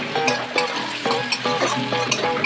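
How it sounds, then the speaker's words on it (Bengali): Jackfruit curry masala with chopped coriander is stirred in a hot pan, a loud, close, rhythmic scraping and sizzling with repeated spatula strokes over a constant fry, no speech. "ধনে পাতা কুচি আবার একটু নাড়াচাড়া করে নেব"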